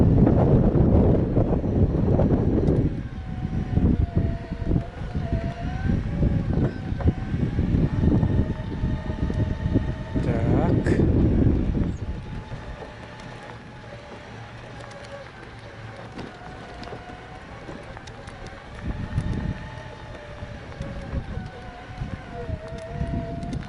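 Strong headwind buffets the microphone while riding along a road, a heavy low roar for the first half that eases to a quieter rustle, with brief gusts returning near the end.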